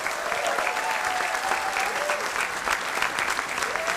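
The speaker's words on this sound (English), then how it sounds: "give him a big hand, a big hand!" An audience at a makeathon event gives loud, dense applause, a continuous roar of many clapping hands with faint voices and a brief tonal whistle-like sound riding underneath.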